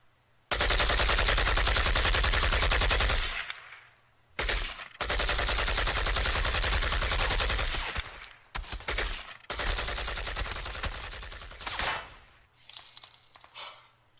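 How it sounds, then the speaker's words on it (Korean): Bursts of rapid gunfire from a donation-alert sound effect, loud and close, in several long volleys separated by brief pauses, with scattered fainter shots trailing off at the end. "도네를 총소리를 보내면 어떡하냐"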